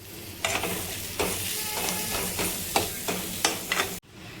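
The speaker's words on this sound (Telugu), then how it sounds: "ఫ్రై చేశాక కొద్దిగా రైస్ వేసుకొని ఫ్రై చేయాలి" Soaked rice stir-fried in a pan with coriander powder and ginger-garlic paste for bagara rice, giving a steady close sizzle broken by several scraping stirs, ending abruptly.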